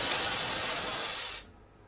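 A red-green double-color firework star burns with a loud, steady broadband hiss that holds for about a second and a half, then cuts off abruptly into near silence.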